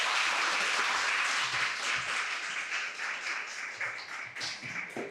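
An audience at an AI technology lecture breaks into dense, steady applause that holds loud and even before tapering slightly toward the end.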